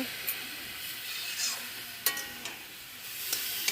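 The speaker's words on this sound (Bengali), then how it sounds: "এই যে সব গাজরগুলো দিয়ে দিচ্ছি অল্প অল্প করে। ঘি দিয়েছি" Grated carrots sizzling in ghee in a pan for carrot halwa, a steady frying hiss broken by scattered clinks and scrapes of a spoon stirring, close by and with no talking.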